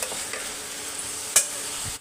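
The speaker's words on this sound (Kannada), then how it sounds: "ಚೆನ್ನಾಗಿ ಅದನ್ನು ಫ್ರೈ ಮಾಡ್ಕೊಳ್ಳೋಣ ಮಸಾಲೆ ಜೊತೆ, tomato, onion, ginger garlic paste ಜೊತೆ" Vegetables with masala, tomato, onion and ginger-garlic paste stir-fried in a pan, giving a steady close sizzle with scraping stir strokes and a sharp clink near the middle.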